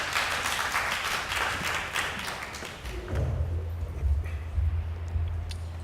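Audience applause at a small-business opportunities event, a steady patter of many hands clapping that fades after a few seconds, followed by a low hum and a few thuds.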